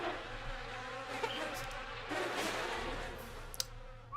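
A steady insect-like buzzing drones throughout, with a couple of brief clicks near the end; no voices.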